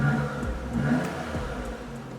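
Daihatsu Copen Robe 660 turbo convertible idles and blips, a close low exhaust rumble with short revs rising and falling.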